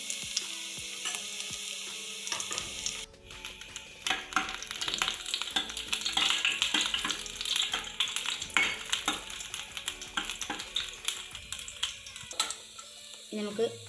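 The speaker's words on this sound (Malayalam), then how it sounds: "2 ടേബിൾ സ്പൂൺ വെളിച്ചെണ്ണ ഒഴിച്ച് കൊടുത്തിട്ടുണ്ട്. അതിലേക്ക് ഞാൻ ഈ അരിഞ്ഞ് വെച്ച ഇഞ്ചി ഇട്ട് കൊടുക്കുകയാണ്." Chopped ginger drops into two tablespoons of hot coconut oil and crackles, settling into a lively sizzle with stirring clinks, while a voice talks over the cooking.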